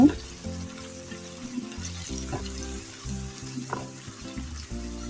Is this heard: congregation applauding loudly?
no